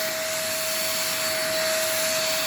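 A newly unboxed vacuum cleaner runs during a test, giving a loud, steady, close whine with a constant motor tone and no talking.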